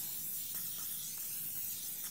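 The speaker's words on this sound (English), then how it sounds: "So I'm just going to go ahead and spray that." Cooking spray hisses from an aerosol can onto a pan in a steady, close, fairly quiet burst that fades out at the end, with no talking.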